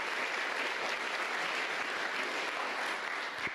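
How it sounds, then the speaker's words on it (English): Audience applause at an all-employee meeting, dense steady clapping that runs evenly throughout at moderate volume. "So let's give Cynthia a round of applause for accepting a new challenge"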